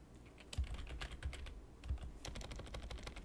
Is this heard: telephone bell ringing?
no